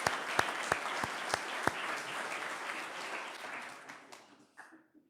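Guests at a ribbon-cutting event applaud an executive director, a few sharp close claps rising into a full round of clapping that gradually tapers off into silence.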